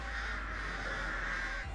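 Crows cawing in the Dead by Daylight horror game, a harsh, drawn-out cry over a low steady ambient drone, loud and close.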